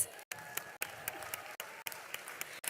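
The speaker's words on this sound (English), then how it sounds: "Another round of applause," Convention audience applauding in a large hall, a steady wash of clapping broken by brief gaps, fairly faint and distant with no clear talk over it.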